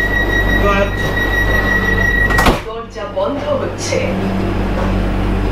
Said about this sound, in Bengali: এই যে গেট অটোমেটিক বন্ধ হয়ে গেল